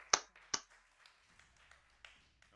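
A few sharp claps, two loud ones near the start followed by softer scattered taps, close and in a quiet room.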